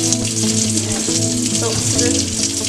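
Tap water runs steadily into a kitchen sink for washing dishes with an eco sponge, a continuous close rushing stream with no talk over it.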